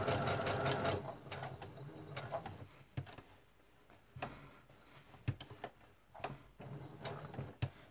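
Sewing machine stitching along the lines of a paper-pieced quilt star, a steady mechanical whir in the first second, then short bursts and clicks of stops and starts.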